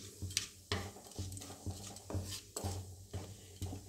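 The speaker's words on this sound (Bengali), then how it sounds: "এবার দেব পেঁয়াজ ফোড়ন।" Diced onions hit hot oil already tempered with cumin and bay leaves for Jammu-style rajma, and a ladle stirs them in repeated scraping strokes against the pot over a soft sizzle.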